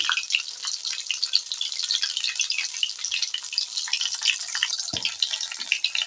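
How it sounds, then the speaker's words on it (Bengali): Steady, dense crackling and sizzling of bata fish frying in hot oil, fairly close, with a soft clunk near the end and no voices. "আমি আজ মাছটা ভাজছি"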